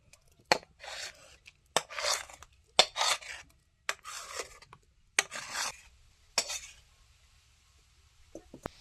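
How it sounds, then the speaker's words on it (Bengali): Flour dough with a paste of green peas, coriander, green chilli and ginger is worked by hand in a bowl, making repeated close rubbing, squishing strokes with short pauses and small clicks between them. "এবার যে কড়াইশুঁটি, ধনেপাতা, কাঁচা লঙ্কা, আদার যে পেস্টটা তৈরি করেছিলাম তার সঙ্গে এবার ময়দাটা মাখছি"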